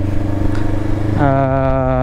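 A Voge 525DSX motorcycle engine idles roughly, then a blip of throttle lifts it into a smooth, close rev that holds steady.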